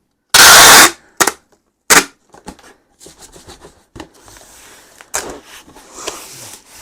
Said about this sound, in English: But these tape guns slip off. The tape will slip off the end, and then it'll crease, and then it doesn't stick as well.